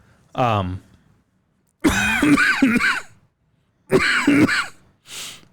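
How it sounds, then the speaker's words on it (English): A single short throat-clearing cough comes first, followed by two stretches of nearby talk and a faint breath at the end. "I'm gonna leave your cough in there"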